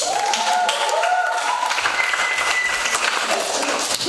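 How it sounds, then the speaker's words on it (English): An audience at a lecture on street dance claps together. The applause is dense and sustained, with faint voices and whistle-like tones mixed in. "Clap."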